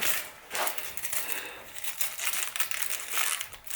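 Plastic bag, foil lid cover and cellophane wrapping crinkle and rustle as they are handled during an unboxing, with close, continuous crackling and a few sharper crunches throughout, no talk.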